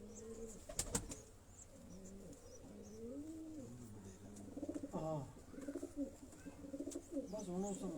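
Pet pigeons coo in low, rolling, repeated calls at close range, with a few wing flaps and voices of people talking nearby.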